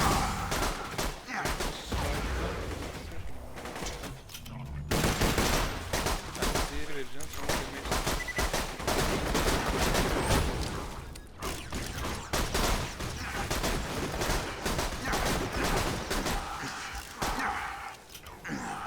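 Automatic gunfire in Borderlands 2 sprays at incoming rockets, rapid mechanical bursts running almost continuously under game effects and a voice talking.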